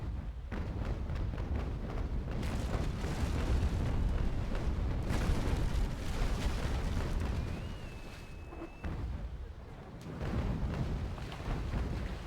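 Cannon fire striking a ship in the naval video game Naval Action, heavy rumbling booms and crashing impacts in a dense, loud, continuous roar with a few sharper bursts.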